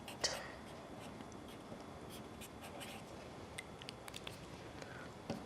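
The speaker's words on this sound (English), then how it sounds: "Sketch and write." A pencil sketches and writes on paper in soft scratchy strokes with small taps, close and quiet, while a voice speaks over it at times.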